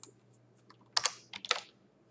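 Close computer keyboard typing while coding beginner JavaScript challenges: a few light taps, then two quick clustered bursts of keystrokes, with no talking.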